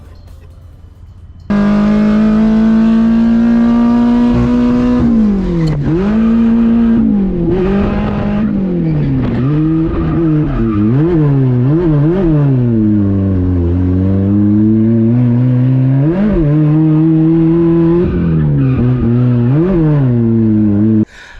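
A Toyota Corolla engine revs loudly and continuously while drifting at a speedway, pitch rising and falling repeatedly as the driver works the throttle, with no talking.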